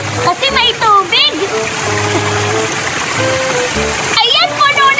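Water splashes and trickles steadily as a water gun is filled at a swimming pool slide, with children's voices chattering over the running water throughout.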